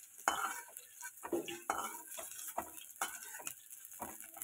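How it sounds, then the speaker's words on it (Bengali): Fried potatoes are lifted out of an oil-filled pan with a utensil, giving a quiet series of scraping and tapping strokes over a soft sizzle, repeating roughly every half second. "এই যে আলুটা ভাজা হয়ে গেছে। এবার এগুলো তুলে নিচ্ছে আলুগুলো।"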